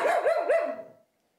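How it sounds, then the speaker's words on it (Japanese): A Hokkaido dog barks three times in quick succession, sharp and fairly close, and the last bark trails off into silence. "慣れてない人が近づいてきたりすると結構吠える"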